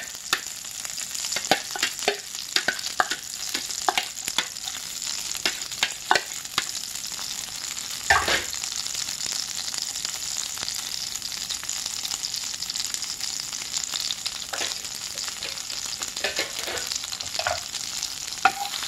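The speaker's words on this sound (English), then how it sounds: "Let the garlic cook first." About two teaspoons of minced garlic fry in a pan for a spicy frog legs dish, giving a steady close sizzle broken by frequent sharp clicks and scrapes of stirring, with no talking.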